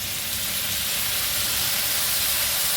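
Steady loud sizzle and hiss of vinegar hitting a hot pan of stir-fried green beans, a continuous broadband frying roar with no voice over it.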